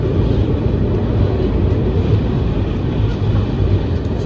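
A slow-moving train bound for Howrah crawls at about 5 to 10 km/h, giving a steady, loud low rumble and rattle that continues without a break and with no voices.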